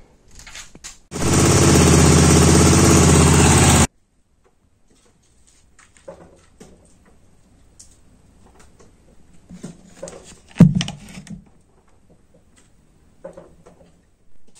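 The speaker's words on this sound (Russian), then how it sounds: "Сейчас заведу, поработает." A Honda Magna 250 motorcycle engine under repair bursts into a loud, steady run for about three seconds, then cuts off, leaving quiet clicks and handling noises.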